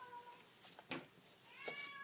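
A male house cat cries out in a few short, faint meows, with a quiet room around him.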